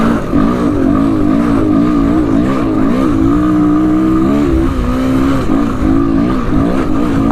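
A Honda XR200R dirt bike engine revs hard and continuously, its pitch rising and dipping through throttle changes, loud and close throughout with no talk.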